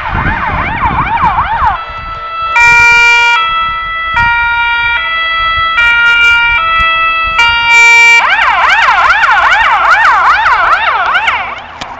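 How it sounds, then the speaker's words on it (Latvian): Ambulance and fire engine sirens passing nearby, loud and close: a rapid yelping wail gives way to a steady alternating two-tone hi-lo pattern, then the fast yelp returns over faint traffic rumble. "jau aizbrauca kāds pāris ātrās palīdzības mašīnas un ugunsdzēsēji jau pirmīt"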